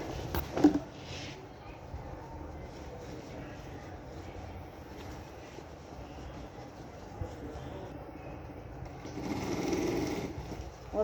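A sewing machine stitches a sleeve onto a leather jacket, its quiet, steady whirring running nearby, with short louder bursts near the start and toward the end.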